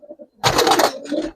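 Giribaz silver pigeons coo close by: a low soft coo, then a louder rough burst of cooing and wing or body rustle, trailing off into another softer call.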